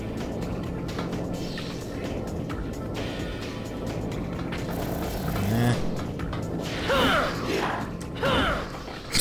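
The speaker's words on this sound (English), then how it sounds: "Of course I want to ride the elevator up" An elevator rises in the video game Samurai Legend Musashi, a continuous mechanical rumble with creaking and ratcheting gear sounds that grow busier toward the end.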